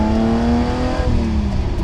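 A Lamborghini Countach's engine revs loud and close, its steady harmonic drone holding, then dipping slightly midway and carrying on with rumbling low end throughout.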